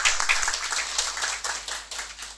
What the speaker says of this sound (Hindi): इसके लिए मैं सबके लिए ताली बजाना चाहूँगी।